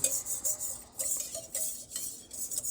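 Homemade yogurt mixture of cream being stirred with a utensil in a container, soft repeated scraping and light clinks in a steady rhythm, faint and close with no voices.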